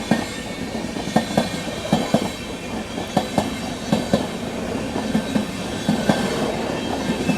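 The Tejas Rajdhani Express, train 12310 from New Delhi to Rajendra Nagar Patna, rolls past close by on Indian rails with a steady, rhythmic clickety-clack of wheels over rail joints and a constant rumble throughout.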